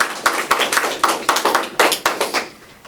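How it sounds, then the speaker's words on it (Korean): Applause from a small audience at a student presentation show, a short run of about a dozen sharp, separate claps that come in an uneven rhythm and fade out within three seconds. "네, 박수 한번 주세요."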